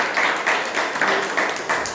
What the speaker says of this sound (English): So I would request everyone to give him a round of applause